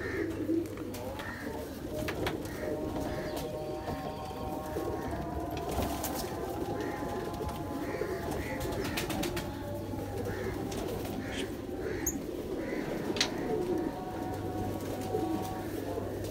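Golden pigeons in a breeding loft coo continuously nearby, their low throaty calls overlapping with faint chirps and rustling as a constant backdrop.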